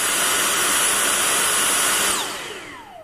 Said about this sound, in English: Now, you simply press the trigger to vacuum.